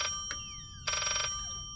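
An old-style telephone bell ringing in the horror video game Layers of Fear, two short metallic rings, the second longer, sounding close and clear over a low, quiet ambient rumble with echoing tails.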